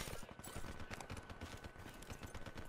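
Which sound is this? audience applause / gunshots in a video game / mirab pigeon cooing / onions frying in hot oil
gunshots in a video game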